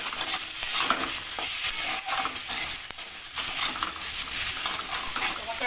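Spice masala with tomato stir-fried in a pan for a Bengali fish curry, loud close sizzling with brisk, repeated scraping and clinking of a spatula against the pan, no talking.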